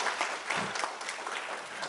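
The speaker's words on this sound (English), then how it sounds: "Let's give him a round of applause just for that." Brief burst of audience applause at a health disparity summit, a steady dense clapping heard from within the hall.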